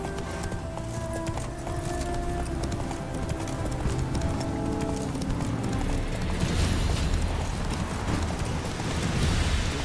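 Roach, the horse in The Witcher 3, clip-clops at a brisk pace under a dense wash of game ambience and music, the hoofbeats moderately loud and continuous throughout.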